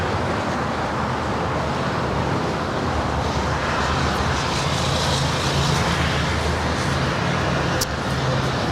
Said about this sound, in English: China Airlines Cargo 777 touching down here on the south side at 25 left